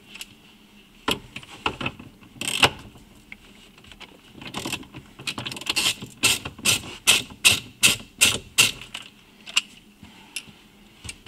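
A hand tool ratchets and clicks while unhooking a yoke steering wheel in a Ford Mustang, first in scattered clicks, then a quick rhythmic run of sharp mechanical ticks, close up with no talking.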